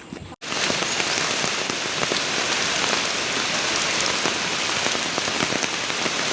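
Steady, close rain pours at the Dhopeshwar Shiva temple near Rajapur in the Konkan, a dense, even patter that starts after a brief pause and carries on alone without voices.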